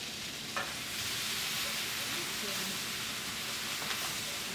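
Bacon frying in its grease gives a steady, close, hissing sizzle with a few faint clicks and soft bumps, and no clear voices over it.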